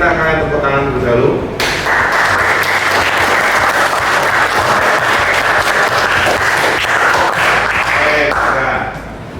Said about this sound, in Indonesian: saya minta kalian tepuk tangan terlebih dahulu